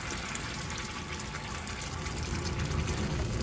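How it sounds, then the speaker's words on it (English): Canned tomato puree being poured into a pan for pasta sauce, a steady close wet gushing rush that holds throughout, no talk. "And then you're going to add in a can of tomato puree."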